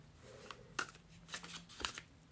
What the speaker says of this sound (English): So let's shuffle with intention.